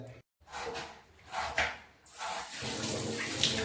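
Tap water runs into a sink while goat tripe is rinsed and rubbed clean by hand, the flow steady with splashing and brief pauses.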